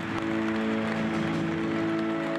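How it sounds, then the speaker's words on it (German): Dense, steady applause from a large crowd at a Volkswagen event, a continuous wash of clapping with an electrical hum beneath. "Es ist der letzte Applaus für Martin Winterkorn als Vorstandschef."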